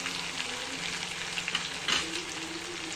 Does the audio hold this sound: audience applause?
no